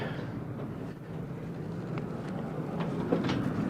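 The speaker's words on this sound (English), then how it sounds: "I got a diesel train that we're gonna pull it out." A small model diesel train hums and rattles steadily along a track, with faint clicks, nearby and fairly quiet.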